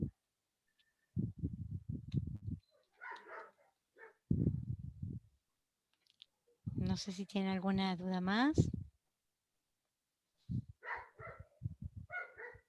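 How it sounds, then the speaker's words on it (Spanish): A hungry sheepdog barks and whines in a few short bursts, heard faintly at a distance between stretches of someone speaking to a class. "Hay un perro que tiene ganas que le den de comer, parece."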